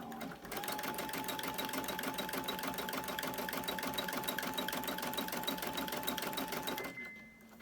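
An embroidery machine stitches a hen block design with a steady, rapid mechanical chatter. The sound is close and continuous for nearly seven seconds, then stops abruptly.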